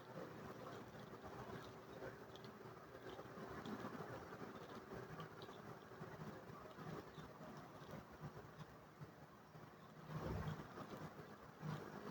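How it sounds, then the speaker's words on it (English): A train rolling through a small town, heard as a steady distant rumble and rattle with some wind noise over the whole stretch, no talking. "we have a train in this town"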